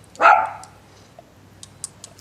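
A dog gives one sharp, loud bark close by, followed by quiet and a few faint clicks and taps.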